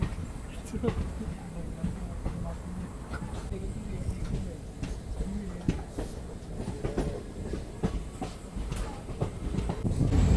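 The Ranikhet Express rolls slowly out of Delhi Sarai Rohilla on its rails, giving steady rumbling with intermittent wheel clicks and clanks from inside the carriage, while a voice talks over it.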